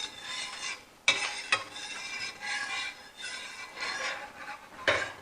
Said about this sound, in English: You have to stir, always stir